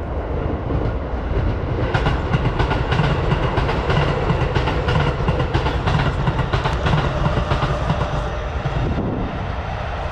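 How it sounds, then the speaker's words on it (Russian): A train in Japan rumbles past close by a house, loud and sustained with rhythmic clacking of wheels over the rails, easing slightly toward the end. "поезда здесь ходят очень часто"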